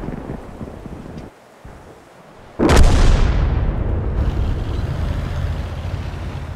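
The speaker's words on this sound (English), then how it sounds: "And that is what artillery can do" A single heavy artillery blast from a tank video game erupts suddenly after a quiet stretch, loud and close, followed by a long rumbling decay with a whooshing tail.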